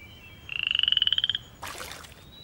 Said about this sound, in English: There's a frog in the pond